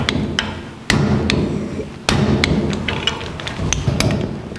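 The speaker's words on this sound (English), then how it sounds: "these bolts should be torqued to 38 to 57 foot-pounds" A torque wrench set to 45 foot-pounds tightens the bolts on a 1949 Chevrolet gasser's spindle, giving a few sharp, close clicks spaced a second or more apart over a low shop rumble.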